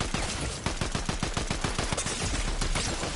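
Rapid bursts of gunfire in Fortnite, a dense run of sharp shots fired in quick succession for several seconds, loud and close, with no talking.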